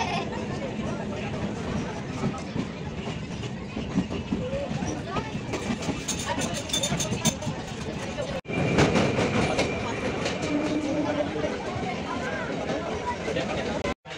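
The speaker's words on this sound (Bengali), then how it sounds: "পুরো ফাঁকা ট্রেন, মানে আমরা একদম আরামসে যাচ্ছি" Inside a moving, nearly empty passenger train: a steady rolling rumble with rhythmic wheel clatter throughout, a louder burst of track noise partway through, and people talking over it.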